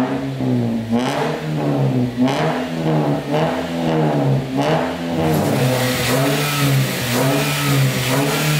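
A Toyota Vios fitted with 4-1 headers revs repeatedly, the engine note rising and falling in steady loud pulls close by, getting harsher and brighter toward the end.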